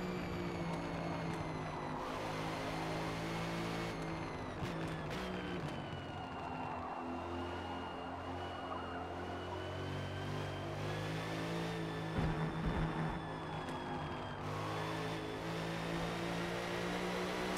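A GT3 race car engine in Forza, driven with no assists, drones loud and steady, its pitch rising and dropping through gear changes and braking, with no talk.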